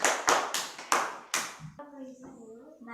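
A classroom of children claps for two classmates, Alfian and Maisa, with about five distinct, loud, rhythmic hand claps in quick succession, then a voice speaks afterward.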